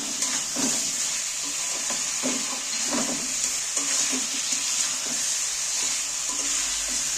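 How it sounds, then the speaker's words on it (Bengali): Potatoes with spices frying in a pan, stirred repeatedly, giving a steady close sizzle broken by soft scraping strokes with no talk. "আলুগুলো সমেত মশলাটা ভালো করে কষিয়ে নিচ্ছি।"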